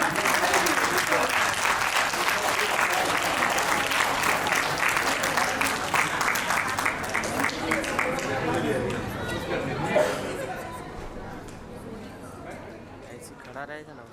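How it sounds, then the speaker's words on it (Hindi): Audience applause at a school class silver jubilee reunion, loud dense clapping with crowd chatter that gradually fades out over the final seconds. "जोरदार तालियां"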